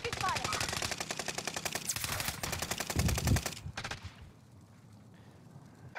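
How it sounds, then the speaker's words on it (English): Video game gunfire: loud, rapid automatic bursts in a sustained stream for several seconds, ending with a heavier thump before fading to quiet. "I'm taking fire."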